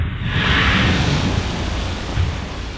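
Rocket hitting the water in Kerbal Space Program, a loud sustained rushing splash and roar of broad noise with a slight swell near the end.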